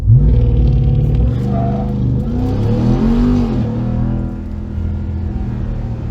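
A 2021 RAM TRX pickup launches at full throttle using launch control, its engine roaring loudly and close with a deep rumble as the revs climb and shift, then settling into a sustained drone.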